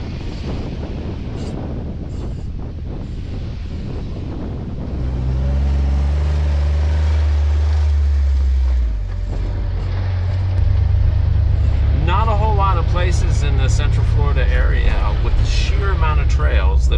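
A Jeep drives along the edge of Hopkins Prairie on loose sugar sand; a low engine rumble rises partway through under heavy wind buffeting, and people talk over it toward the end.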